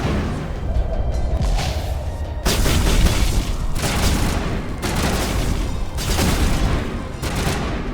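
Heavy gunfire and booming blasts from a Mass Effect 1 firefight, loud and close, arriving in repeated dense bursts separated by short gaps.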